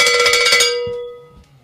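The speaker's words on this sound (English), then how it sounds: "More cowbell." A cowbell is struck in a quick run of bright metallic hits, then rings out and fades over about a second, close and loud with no talk.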